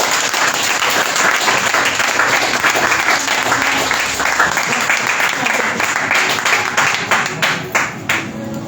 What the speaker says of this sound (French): Acclame fort pour le Seigneur.